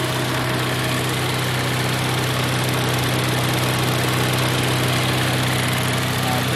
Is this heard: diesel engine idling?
yes